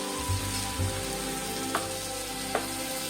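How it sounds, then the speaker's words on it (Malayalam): Tomato puree frying in a pan with turmeric powder for a quail egg masala curry, giving a steady close sizzle with a couple of brief stirring clicks and no talk. "ടൊമാറ്റോ പ്യൂരി ഒഴിച്ചു കൊടുത്താൽ ഒന്ന് നന്നായിട്ട് ഫ്രൈ ആവണം."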